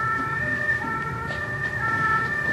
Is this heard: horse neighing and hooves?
no